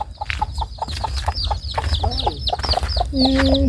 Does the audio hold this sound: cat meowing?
no